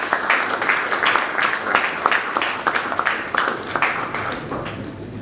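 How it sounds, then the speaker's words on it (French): An audience at an evening award ceremony claps steadily, a dense wash of many hands that stays loud and even for several seconds. "Excellence Jean-Paul Senga, sous vos applaudissements, il est là."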